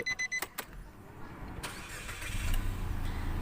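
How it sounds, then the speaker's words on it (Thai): A 2019 Nissan March 1.2 E engine cranks over after a few clicks, catches and settles into a low, steady idle close by. "สตาร์ทรถให้ลูกค้าได้ฟังเสียงเครื่องยนต์"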